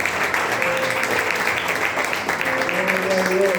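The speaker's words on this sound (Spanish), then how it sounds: "Den un fuerte aplauso al Señor." A church congregation claps for the Lord, a dense, continuous round of applause that holds at an even level, with voices calling out under it.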